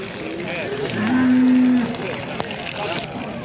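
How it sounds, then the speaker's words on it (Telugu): A Jersey cow at the Punganur cattle market lets out one drawn-out, fairly close moo in the middle, over a steady murmur of market background noise. "జెర్సీ ఆవు ఇది పునూరు సందలో చూడండి"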